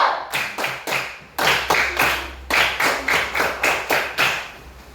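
A group claps in a repeated rhythmic pattern, several sharp claps per bar in quick bursts, loud and close, with no talking; an Indonesian 'tepuk semangat' spirit clap.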